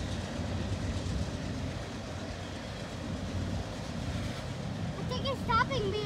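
A freight train loaded with lumber creeps slowly across a bridge crossing, making a low, continuous rumble and grind, with faint high chirps near the end.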